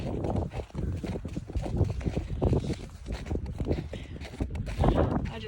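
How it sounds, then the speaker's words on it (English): Hooves of a small pony clip-clop on the ground at a close distance, an uneven stream of thuds with wind buffeting the microphone outdoors. "This is one of the little ponies here."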